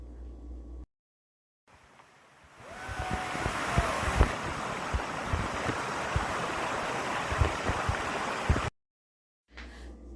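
Mayan King Waterfall in Belize, a steady broadband rush of falling water that swells after a short quiet gap, continuous and fairly close, with no voices.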